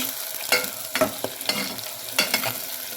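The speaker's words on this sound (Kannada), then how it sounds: "ಸ್ವಲ್ಪ ಎಣ್ಣೆಯಲ್ಲಿ ಎಲ್ಲ ಫ್ರೈ ಆಗಲಿ" Spices frying in oil for a jackfruit seed gravy, a soft continuous sizzle broken by several close scraping stirs of a spoon against the pan, with no talking.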